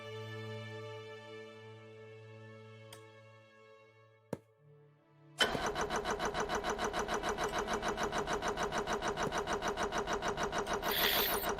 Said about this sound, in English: it's just the starter going and going and going